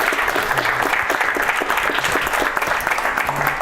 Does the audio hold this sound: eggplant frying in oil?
no